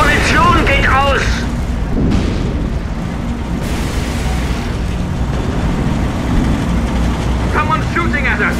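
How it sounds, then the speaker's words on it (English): Heavy booms and artillery-like blasts rumble through a World War II tank battle in the PC strategy game Codename: Panzers, loud and sustained, with short radio-style voice callouts near the start and end. "Someone's shooting at us"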